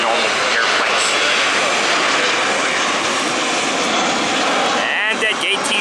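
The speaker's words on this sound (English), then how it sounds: "Just touch down like a normal airplane should." Airliner touching down at Atlanta airport in stormy weather, with a steady loud roar of jet engines and rushing air throughout, a few rattles near the end.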